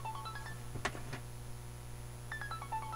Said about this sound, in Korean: 잠시만요. 전화 왔습니다.